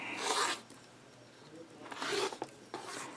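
Rotary cutter run along a ruler to trim a quilting fabric strip, heard as two close, scraping rasps, one short and one longer, with a faint rustle between them.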